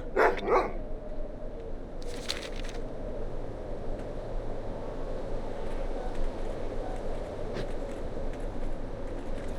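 Dog barking in World of Warcraft, in the orc starting zone of Durotar: a couple of sharp barks at the start, then a short burst of sound, set over a steady ambient game background.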